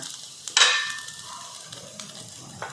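Sabudana appe being turned in a hot appe pan, with a brief sharp sizzle burst and light metallic clinks, then a quiet simmer.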